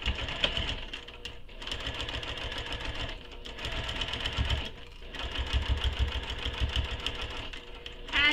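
A sewing machine fitted with a Teflon presser foot stitches through vinyl on a humid day, running in steady mechanical bursts with brief pauses as it slows around corners, close and continuous.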